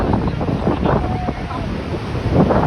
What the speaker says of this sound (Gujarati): દરિયો ગાંડો છે. જોઈ લો મોજા જો આવે.